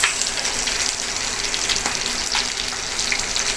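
Loud, constant sizzling and crackling of freshly caught fish frying in hot oil, close by and uninterrupted.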